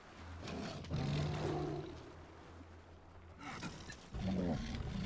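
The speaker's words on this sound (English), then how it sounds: "Bear confirmed." A bear in the video game Far Cry Primal roars and growls in low rumbling bursts, one long roar and a second rising roar later, over quiet game ambience with no talk.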